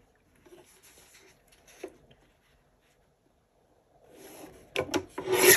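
Scissors trimming the sides of a paper cash envelope, faint rustling at first, then louder crisp snips and paper scraping toward the end, close and alone.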